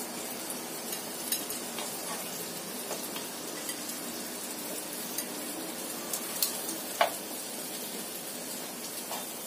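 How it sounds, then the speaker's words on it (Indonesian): Sausage and banana grilling in a nonstick pan, a faint, steady sizzle with occasional light clinks of a utensil against the pan, heard close with no talking. "Ini saya panggang sebentar sosisnya di sini sama pisangnya"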